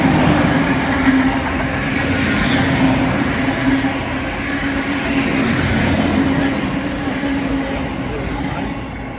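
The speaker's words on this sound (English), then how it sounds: "Will it be a happy train?" A train passing close by on a seawall, a loud continuous rumble and rushing roar sustained throughout and slowly easing off at the end.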